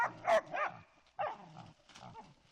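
Dogs of the Bos and Norka bloodline bark in sharp, loud bursts, a couple of quick close barks followed by a few more spaced barks, with no talk over them.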